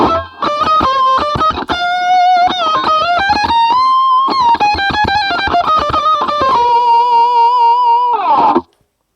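Electric guitar played through the AmpliTube Red Special Pedal with neck and middle pickups out of phase, loud distorted sustained melodic lead lines with bends, ending abruptly.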